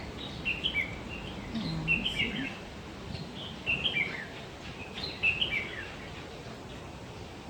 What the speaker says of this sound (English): Different kinds of bird, you see.